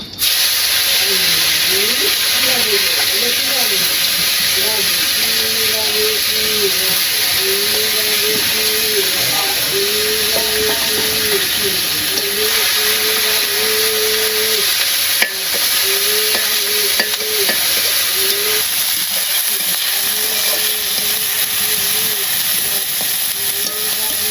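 Fish fries in a pan with a steady, close sizzle and hiss that runs throughout, and a speaking voice is heard over it.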